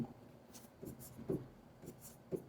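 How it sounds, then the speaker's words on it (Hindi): Chalk or marker strokes on a board during a chemistry lecture on chemical bonding, a handful of short taps and scrapes spaced irregularly, soft and close in a quiet room. "यहां भी मैं F लिखना चाहूंगा।"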